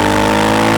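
A 2003 Suzuki SV 1000 S motorcycle engine drones loudly and close in a brief, steady burst, its buzzing tone unbroken throughout.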